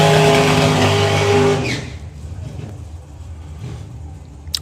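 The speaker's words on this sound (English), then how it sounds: "So the Wicked Lady Dragster." A Wicked Lady dragster makes a drag racing run, loud and harmonic-rich as it passes, then fading quickly into distant rumble.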